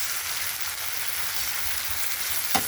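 Tomatoes stir-fry in hot oil with a steady, dense sizzle that holds evenly throughout, broken near the end by a single faint clink of a utensil against the pan; nobody speaks.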